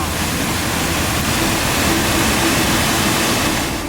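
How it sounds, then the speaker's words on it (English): A waterfall in the German Alps pours in a steady, loud, dense rushing roar, close and unbroken for the whole span. "We made it to the waterfall!"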